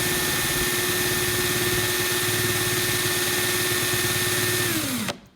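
A Corrado's engine runs in reverse as a loud, close, steady droning whine that holds level, then quickly drops away and cuts off at the very end.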